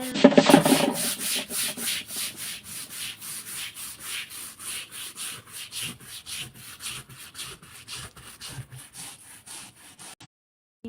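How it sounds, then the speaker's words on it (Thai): A stiff brush scrubs an algae-covered outdoor yard floor in steady back-and-forth strokes, a rhythmic rasping that continues evenly close by before stopping abruptly. "วันนี้เราก็มาทำขัดพื้นนะคะ ขัดพื้นสานนะคะ สานบ้านนะคะ เพราะว่าตะไคร่น้ำเยอะนะคะ"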